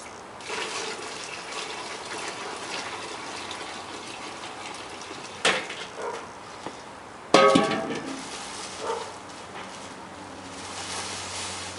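Water gushes and pours into a grain mash during home brewing, a continuous splashing flow with a couple of louder sloshing bursts midway.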